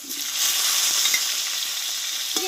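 Potatoes fry with tomato, ginger and green chili in a pan, giving a steady, close, bright sizzling hiss with a few faint stirring taps and no speech.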